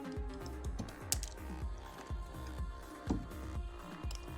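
Steady, fast typing on a mechanical keyboard fitted with KS3 Milky Top switches, a dense run of soft clacks and taps at close range, even in rhythm with a few louder strikes, no voices.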